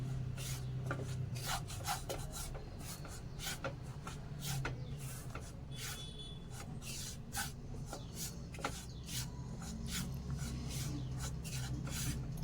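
Wheat flour being stirred and roasted dry in a pan, a steady close scraping and rasping of the spoon with brisk repeated strokes and no talking.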